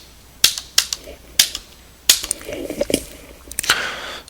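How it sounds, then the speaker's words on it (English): Computer keyboard keys tapped to spell out the word Apple, a handful of sharp close clicks in an uneven rhythm, with a brief burst of quicker taps near the end. "On your keyboard, try typing in the word Apple into the command bar"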